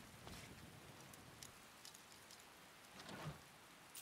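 Rainfall in modded Skyrim, a quiet, even patter and hiss that runs throughout, with a couple of slightly louder gusts or splashes rising briefly over the constant wash.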